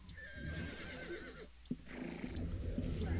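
Neighing of an ethereal horse mount in the Ultima Online game, a drawn-out whinny over a steady ambient bed with a brief thump near the middle.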